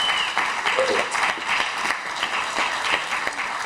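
Brief round of audience applause at a film screening and discussion event, dense clapping throughout with a voice mixed in.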